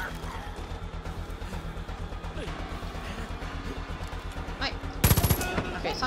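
Gunfire in the video game Far Cry 5: steady low rumbling game noise with scattered distant shots, then a sudden loud close burst of rapid fire near the end, with a voice talking over it.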